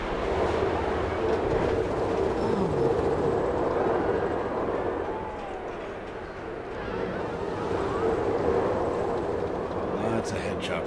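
A launched roller coaster at Austin's Wonderland roaring along its track, a dense, loud rumbling rush that dips briefly midway and then surges again, heard up close from the ride.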